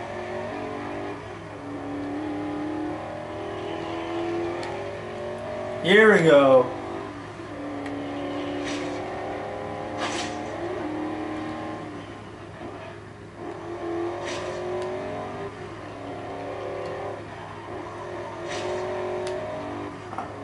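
A 7-liter twin-turbo, 800-horsepower car in the Forza Horizon 2 racing game, engine droning and revving through gear changes with a sharp rising whine midway, under a voice talking.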